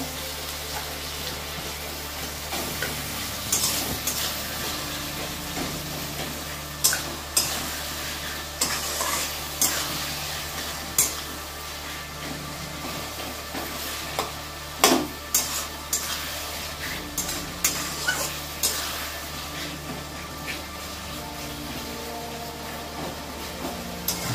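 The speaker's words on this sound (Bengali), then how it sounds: "আমি আদা জিরে বাটা দিলাম আর মিট মশলা দিয়ে দিলাম, দিয়ে এবার কষিয়ে নিচ্ছি" Chicken sautéed with ginger-cumin paste, chili, salt and meat masala for Bengali-style doi chicken, giving a steady low sizzle with frequent scraping stir strokes of a spatula throughout, close and moderately loud, no talking.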